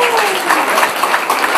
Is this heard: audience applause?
yes